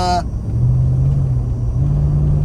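Small V8 in a rare Mercedes AMG car idling with a deep, steady rumble, loud and close, holding an even tone with a slight rise in pitch partway through.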